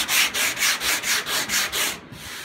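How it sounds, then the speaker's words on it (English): Hand sanding on car body work rasps in a steady back-and-forth rhythm, about eight even close strokes, before stopping abruptly. "just for 30 seconds of sanding in this direction"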